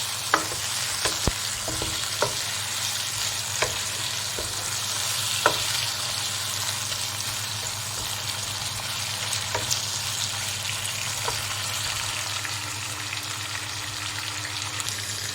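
Chicken frying in a pan with cumin and black pepper, a continuous close sizzle with scattered sharp spatters and occasional stirring knocks, no talk.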